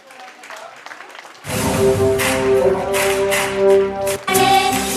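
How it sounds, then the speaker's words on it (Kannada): Audience applause at a Bengaluru main-stage event fills the space from about a second and a half in, a steady dense clapping layered over loud stage music, with a quieter lead-in before it. "Continuous claps. ಚಪ್ಪಾಳೆ ಚಪ್ಪಾಳೆ."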